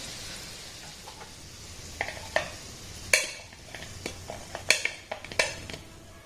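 Wheat-flour gulab jamun are lifted out of hot frying oil with a utensil, giving a soft sizzle under a series of irregular metallic clinks and scrapes against the pan, close and moderately quiet.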